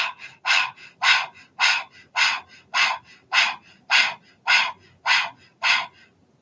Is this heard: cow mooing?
no